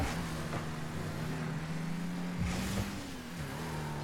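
A car engine in the video game Rocket League hums steadily with shifting revving pitch through a Gold 1 duel match, continuous and fairly faint, with no talking.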